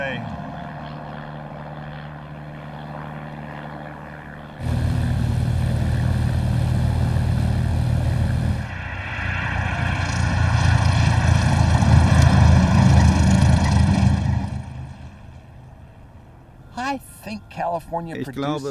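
A propeller airplane flies over almond orchards in California, a droning engine that grows louder as it passes overhead, then fades away, with a person speaking at points.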